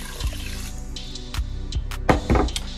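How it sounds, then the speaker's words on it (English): Water pours into the pot of a Cosori 5-quart rice cooker with long-grain rice, a close, splashy trickle broken by a few sharp knocks and clatters of the pot. "Now we're gonna add our water."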